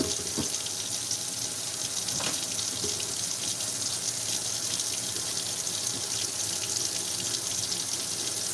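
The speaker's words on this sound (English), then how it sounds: "Turn off the water." Water runs steadily from a kitchen tap into a sink, a continuous loud hiss with no pauses over the whole stretch, close and alone.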